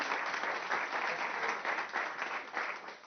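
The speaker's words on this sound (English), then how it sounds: "to ask you for all applause for Anna, because we forgot to applaud her." Audience at an international education conference applauding during a plenary session, a dense, steady burst of clapping that fills the whole stretch without talk.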